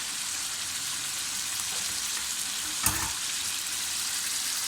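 Chicken karahi sizzles loudly in a hot pan after green chillies go in, a steady close hiss of frying with a brief clatter partway through.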